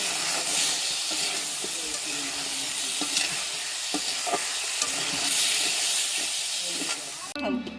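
Potatoes go into a sizzling koi fish curry, producing a loud, steady hiss and crackle of frying up close, with occasional utensil clicks and stirring; the sizzle cuts off abruptly at the end.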